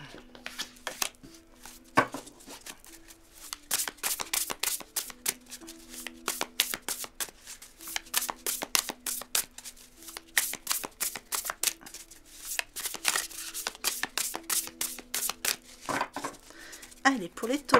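Tarot cards being shuffled by hand in a steady run of crisp riffling snaps and flutters, with brief pauses between bursts, close and fairly loud throughout.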